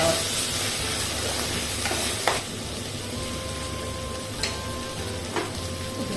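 Leafy greens with sprouted green gram stirring in a pan over low heat, a steady close sizzle and hiss throughout with a few sharper scrapes of the spoon, no voices.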